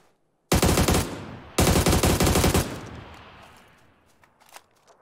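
An AUG assault rifle in the video game PUBG fires two rapid full-auto bursts, loud and close, each about a second long, followed by a fading reverberant tail and a few faint clicks.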